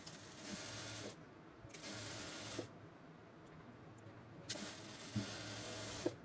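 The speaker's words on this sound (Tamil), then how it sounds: "இங்கே இந்த லைன்லேயே நான் ஸ்டிச் பண்ணிட்டு வரேன்." A sewing machine stitches along a marked line on pant fabric in three short bursts of fast, whirring stitching separated by quiet pauses with faint handling clicks, close and soft.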